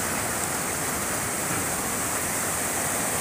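Water of the Kisau Darat river rushes steadily in a dense, even roar, close and continuous with no voices over it.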